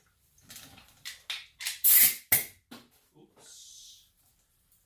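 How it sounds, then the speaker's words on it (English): Compressed shop air blasts out a cleaned snowblower part in short loud bursts between bits of speech, ending with a longer steady hiss. "And then this gets blown out with shop air."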